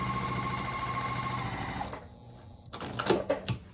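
A sewing machine stitching down the tail of a quilt block, a steady close rattling hum for about two seconds, then a pause and a few short bursts of stitching with light handling noises.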